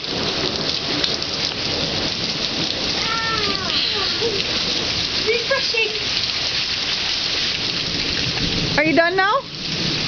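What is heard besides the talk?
shower water running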